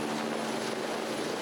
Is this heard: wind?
no